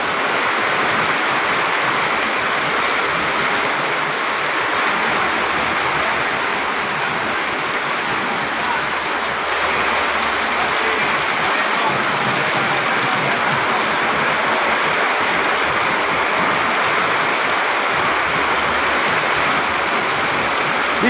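Heavy monsoon rain pours steadily in Savar, Dhaka district, Bangladesh, heard from inside a shop as a dense, continuous rushing hiss that stays loud and even throughout, with no voices.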